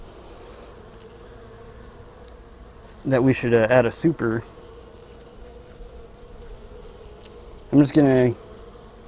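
Honey bees hum steadily and softly in the background while a hive's brood box and frames are opened during an inspection, with a person speaking in two bursts over the buzz.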